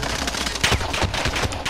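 Rapid gunfire from an opposing team in a battle royale shooter game rattles steadily, with dense, repeated shots at moderate distance and no voices over it.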